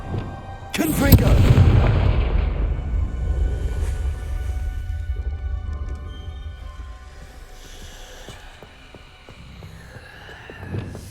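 A Confringo blasting curse goes off in the Hogwarts Legacy video game: a single loud boom with a heavy low rumble that fades slowly into a lingering hum.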